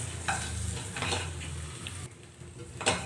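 Crabs fry in masala in a pan for an Andhra-style crab curry, giving a soft, steady sizzle broken by repeated spoon scrapes and stirring clatter against the pan.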